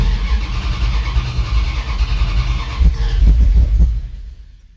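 A 1984 Dodge Ram engine, primed at the fuel pump, cranks and catches, running in a rough, loud rumble for a few seconds before dying away at the end.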